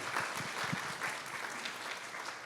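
An audience at a community forum on county water applauds, a steady, moderately distant patter of many hands clapping.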